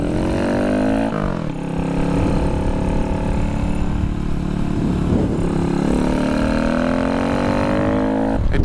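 A motorcycle accelerating at full throttle during a ride under smoky skies, its engine droning loud and steady, pitch climbing and dropping through repeated gear changes.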